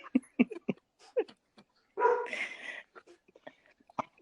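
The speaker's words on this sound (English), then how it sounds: "I hear the dog barking." A pet dog frightened by fireworks barks and yips in short, sharp bursts nearby, mixed with whimpering and a longer strained whine in the middle, loud against an otherwise quiet room.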